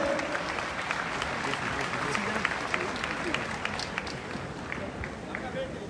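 An audience claps in welcome at a World Navkar Mahamantra Day gathering. Broad, continuous applause fills the hall with scattered sharper claps, and a voice is faintly audible beneath it.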